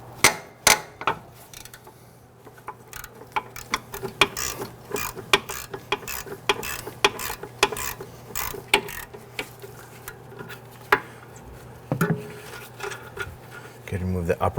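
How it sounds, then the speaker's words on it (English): A wrench works a 19mm brake caliper bracket bolt on a 2011-2017 Nissan Quest rear brake, making repeated sharp ratchet clicks and metallic clanks in irregular bursts, close and fairly loud. "And we have this bolt here, this is a 19mm. Go ahead and loosen this."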